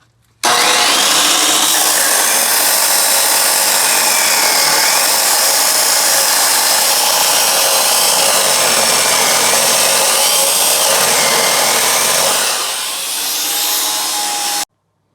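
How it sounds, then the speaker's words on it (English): Chop saw cutting through the metal frame of a 1968 Camaro, a loud continuous high-pitched grinding whine that holds steady for about twelve seconds, dips briefly near the end, then stops abruptly. "we got her all jigged up on the chop saw, nice and square"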